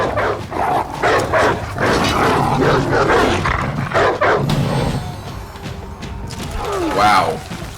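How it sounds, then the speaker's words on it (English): Dogs bark and snarl during medieval combat in the For Honor campaign, with loud repeated bursts, thuds and a roar over a busy game soundscape, while a player talks throughout. "lots of dogs to fight"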